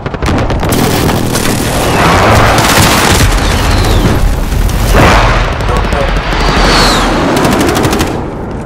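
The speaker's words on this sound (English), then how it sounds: "Enemy precision airstrike inbound." Loud, dense stretch of game combat in Call of Duty: Modern Warfare, with precision airstrike explosions booming among rapid gunfire, a continuous barrage of blasts and shots throughout with some voice underneath.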